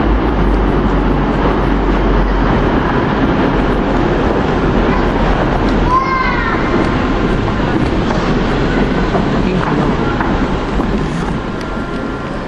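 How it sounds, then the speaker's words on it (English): A Trans-Pennine Express train on the Carlisle to Leeds line rumbles past steadily, with a low continuous drone, wind buffeting the microphone and a brief rising metallic squeal midway. "These are the trains they use on the Carlisle to Leeds run."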